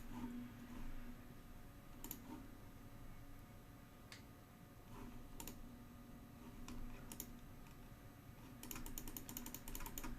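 Quiet keyboard typing on a computer, irregular soft key clicks scattered through the stretch, with a quicker burst of taps near the end over a low steady background hum.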